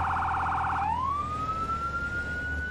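Police car siren in the video game Firefighting Simulator: a loud, close electronic wail that shifts from a rapid warbling yelp into a long rising tone, with no talk over it.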